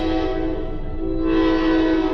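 A train passes near an apartment complex, its horn sounding in a sustained, loud tone over the rumble of the cars, close by and without any talk.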